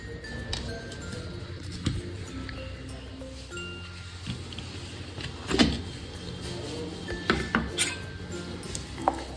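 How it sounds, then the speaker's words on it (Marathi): An electric mixer grinder whirs steadily while blending coconut and peanut chutney with water, its motor hum broken by intermittent clinks and clattering of the jar. "असं हे मिक्सरमध्ये बारीक वाटून घेतलं"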